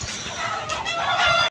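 Chickens cluck and squawk loudly and close by in a brief, agitated burst, with no talking.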